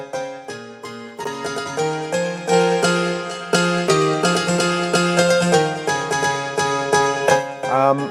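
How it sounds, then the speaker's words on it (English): Korg M1 plugin piano keys play dry with no effects, a dense rhythmic run of stabbed chords and repeated notes in a steady groove, bright and loud, with no talking. "it's like a plugin from Korg called the M1"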